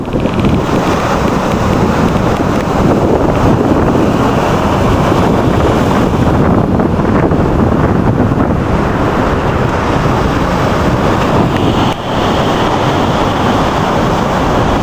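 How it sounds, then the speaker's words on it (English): Ocean waves roll in by the lighthouse at Montauk Point while strong wind buffets the microphone, a loud, continuous roar of surf and gusts with no one speaking. "Anytime you see me taping waves,"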